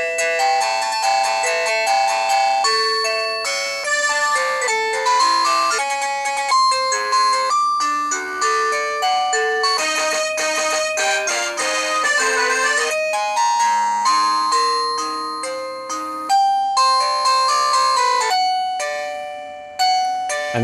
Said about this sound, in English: So it's got quite a few different ringtones, even the Little Mermaid in there as well, Under the Sea.